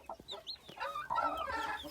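Aseel Shamo chicks peeping with a hen clucking softly nearby, several short high calls and low clucks scattered over two seconds, fairly faint and close, with no voices.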